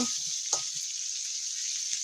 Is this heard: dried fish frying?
yes